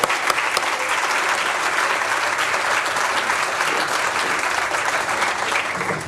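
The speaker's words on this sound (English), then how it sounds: "let's have a round of applause for them" A room full of people claps steadily and loudly for summer scholar interns at a foundation's 75th anniversary scholar summit, a sustained round of applause lasting about six seconds without a break.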